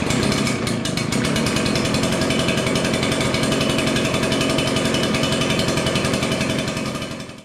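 An Echo PB770T backpack blower's two-stroke engine runs loud and steady right up close after starting, with a constant buzzing drone that holds throughout before cutting off at the end.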